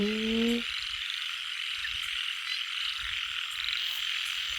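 A dense chorus of frogs croaks continuously at a pond, a steady buzzing drone from many animals, with a brief tonal call at the very start.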